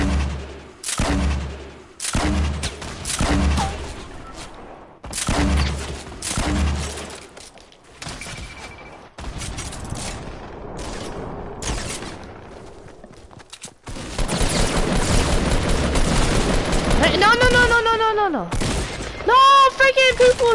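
Bursts of gunfire and impacts from a PS4 shooter game, with explosive booms and sharp cracks mixed among voice and music-like tones, loud and busy throughout.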